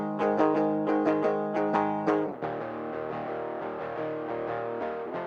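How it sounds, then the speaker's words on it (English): An electric guitar DI runs through Logic's vintage drive distortion pedal, with several sharp, driven plucked notes followed by a sustained, ringing overdriven chord, played alone with no talking. "So what I did first was bring up the pedal board in Logic and use this vintage drive pedal"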